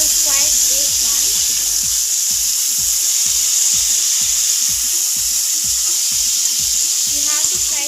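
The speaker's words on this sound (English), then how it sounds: "You have to fry the potato." Chopped potatoes frying with golden-brown onions in a pan, a loud, steady hiss of hot oil under a regular series of soft stirring thumps, heard close and without talk.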